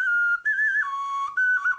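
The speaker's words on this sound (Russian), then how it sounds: "Лошадка – это что? Это свистулька." A clay whistle shaped like a horse is blown in several short, piping bursts of shifting pitch, bright and close, with quick breaks between notes and no talk over it.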